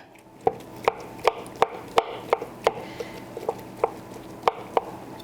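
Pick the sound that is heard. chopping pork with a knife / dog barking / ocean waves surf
chopping pork with a knife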